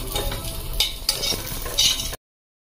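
Rice sizzles in ghee for payas, a steady fry with a few sharp scraping stirs of the spoon, close and moderately loud, cutting off abruptly.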